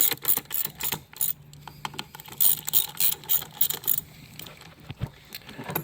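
A ratchet snugging bolts on the timing cover of a 2011–2015 Chevy Cruze 1.8L engine: rapid bursts of close metallic clicking in repeated short strokes, with small pauses and a faint clink between, with no talk.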